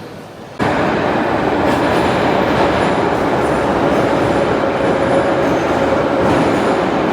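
A metro train in Russia rumbles loudly and steadily, kicking in abruptly after a quiet moment, with a continuous roar of wheels and a faint high squeal through the ride, with no voices.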